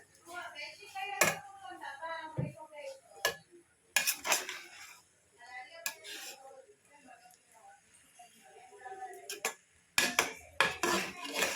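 Coconut rice gets mixed in a pan, with intermittent metal scrapes and clanks of a spoon against the cookware in short bursts, separated by quieter stretches with faint voice.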